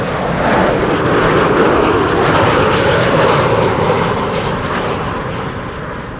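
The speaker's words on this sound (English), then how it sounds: "Sun Express arriving from Izmir." A Sun Express airliner arriving from Izmir roars past on approach to Amsterdam Schiphol on a windy day, a loud, broad, sustained engine rumble that swells and slowly fades.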